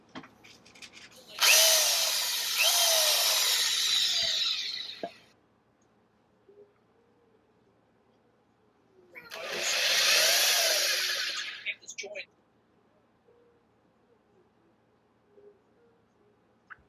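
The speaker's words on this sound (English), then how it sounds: "Let's now drill it." A power drill bores holes into a plastic electronics enclosure box in two loud bursts of whining, grinding drilling a few seconds each, separated by quiet pauses with faint clicks and handling noises.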